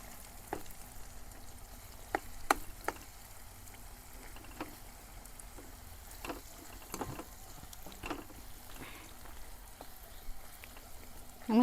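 Spiny gourd being stirred in a pan with coriander, cumin, turmeric and crushed chilli-garlic: faint, steady sizzle with scattered soft scrapes and clicks of a spoon against the pan.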